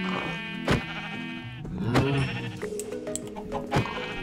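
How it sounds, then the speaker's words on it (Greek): Sheep bleat in the Minecraft video game, several wavering, nasal bleats in a row over about four seconds, close and clear with no talk over them. "Όχι, τα πρόβατα είναι ένα πρόβατο."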